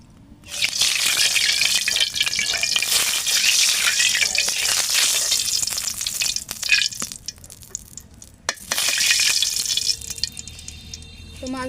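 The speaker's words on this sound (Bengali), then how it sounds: "তা কড়াই গরম হয়ে গেছে, এখন দিয়ে দিতেছি তেল।" Oil poured into a hot wok sizzles and crackles loudly at close range, a dense hiss that swells, briefly drops away and returns, with scattered pops and clinks.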